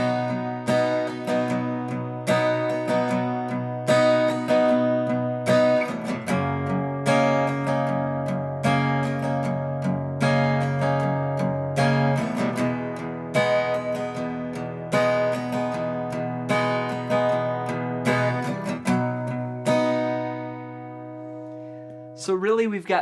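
A guitar plays the verse of a song in a steady strummed pattern with ringing sustained chords, close and clear with no talking, ending with a few fading notes.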